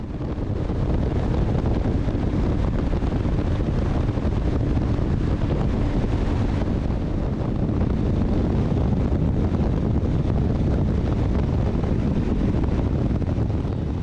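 Strong wind roaring steadily across the microphone during a test ride on an Aveta Vanguard V2 motorcycle at speed, a loud continuous rush lasting the whole stretch with no talk.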